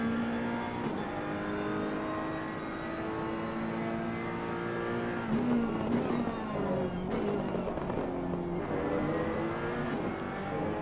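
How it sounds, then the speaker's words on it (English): Ferrari 488 race car at Valencia heard onboard, its engine droning loud and steady with rising and falling revs throughout, a few rougher bursts near the middle and later. "as you can hear the roar of that Ferrari"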